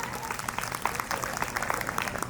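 Audience applause at a Gujarati lok dayro folk gathering, a dense continuous patter of many hands heard from a middle distance, fairly soft and steady throughout.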